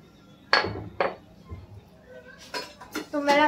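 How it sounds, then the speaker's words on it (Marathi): Chilli thecha being coarsely crushed by hand: a few sharp pounding knocks at a slow, uneven rhythm, then clinking, scraping metal-on-stone hits, close and fairly loud with no talk over them. "हे बघा, असं जाळं वाटून घ्यायचंय आपल्याला, बारीक नाही करायचंय"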